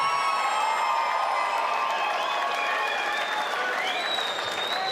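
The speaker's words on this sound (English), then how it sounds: "let's hear another big round of applause for both of these fighters" Sustained crowd applause with scattered cheers and whoops fills a boxing event after a bout, a steady wash of clapping for both fighters that holds loud throughout.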